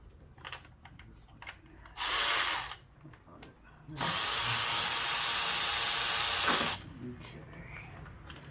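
Two bursts of a loud, broadband power tool whirr removing valve cover bolts on a 2011 Grand Caravan, a short one then a longer sustained run, with quieter clattering in between.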